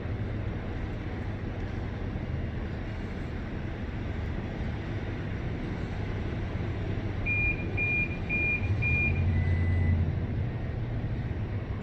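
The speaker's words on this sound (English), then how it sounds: "Five beeps, 4 same and 5th different" Faint electronic beeps sound during millimeter-wave radar calibration on a 2021 Toyota Tacoma: four short, evenly spaced identical tones, then a fifth at a different pitch, over a steady low hum of shop noise.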